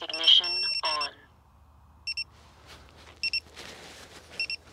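A Dart XLE V2 drone running iNav 4.0 sounds its launch countdown after ignition: paired short electronic beeps repeat at intervals over a low motor hum, following a brief burst of nearby talk at the start.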